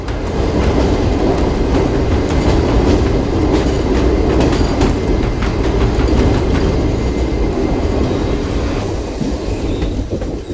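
Silchar Express, train 15663 from Agartala, slowing as it runs through a tunnel: a loud, steady rumble of wheels on rail with clattering rolling noise and occasional squeal, no voices.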